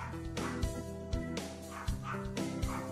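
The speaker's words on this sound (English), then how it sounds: "Apologies for the dog if the mic is picking it up." A dog barks repeatedly in short, evenly spaced woofs, somewhat distant and quiet, over a faint steady background hum.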